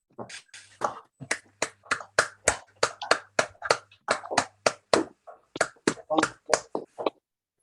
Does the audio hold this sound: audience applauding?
yes